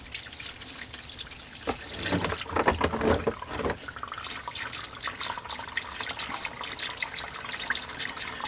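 Engine oil draining from the drain plug of a 2004-2010 Ford F-150 with a 5.4L or 4.6L Triton V8, a close gurgling, splashing pour into a pan, heavier early then settling into a steady trickle with drips.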